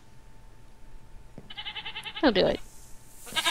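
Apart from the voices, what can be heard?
goat bleating in the video game Minecraft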